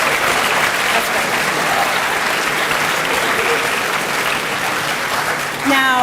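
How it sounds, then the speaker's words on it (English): Students in a classroom or school assembly applaud their classmates, steady loud clapping that continues the whole time, with a brief voice or tonal sound emerging near the end. "give your classmates a round of applause"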